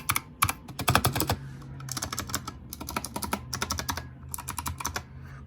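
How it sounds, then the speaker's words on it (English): A Razer Huntsman Mini keyboard with purple switches clatters under fast typing in close, bright bursts of clicky keystrokes separated by short pauses, with a slightly echoing ring. "Over here is my Razer Huntsman Mini. This is purple switches."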